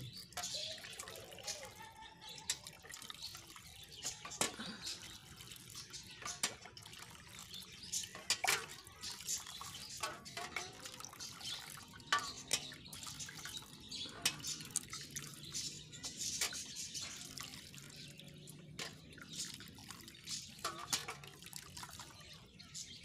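Water splashes and drips as it is poured over a stuck rifle barrel glued into its chamber, scattered liquid drips and trickles throughout with light handling noise and some talk in the background.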